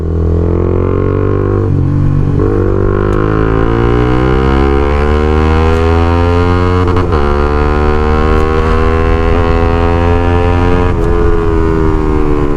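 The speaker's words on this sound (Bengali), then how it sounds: "এক্সস্টের সাউন্ড মারাত্মক সাউন্ড, এটা প্রচুর লাউড এক্সস্ট" Loud, deep exhaust drone from a modified Honda CBR150R motorcycle, a continuous rich engine roar whose pitch rises and falls with the throttle, close and steady throughout with no talking.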